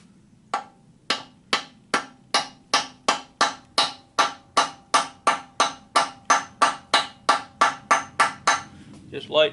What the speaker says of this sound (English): Just light taps with this copper hammer